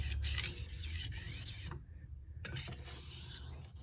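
A knife blade is stroked across an Arkansas translucent whetstone with light pressure, giving soft, close scraping swishes in a few passes separated by a brief pause.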